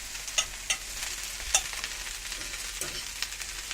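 Chicken fricassee being gently stirred in a frying pan, soft sizzling with a few distinct clicks of the utensil against the pan, close and quiet, no talking.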